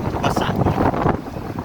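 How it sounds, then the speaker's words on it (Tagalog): Strong wind buffets the microphone while cycling into a storm, a continuous roaring rush, loud and close, with a voice faintly mixed in underneath. "hirap pa lang magpedal pag ganito kalakas ang hangin no?"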